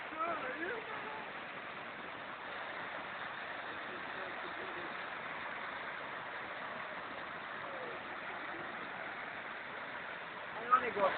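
Steady broadband rush of water flowing at a waterfall, continuous and fairly even throughout, with a few brief louder bumps near the end and voices faintly mixed in.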